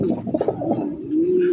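Jhorna Satin and Oriental pigeons coo at a loft, a close, continuous low rolling murmur with a sustained, steadier coo toward the end; no one speaks.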